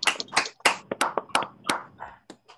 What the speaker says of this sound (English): Can everyone unmute and give ourselves a big round of applause